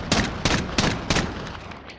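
Rapid gunfire from a .50 GS in Call of Duty Modern Warfare, four loud, evenly spaced sharp shots in quick succession, each with a short ringing tail, then fading off.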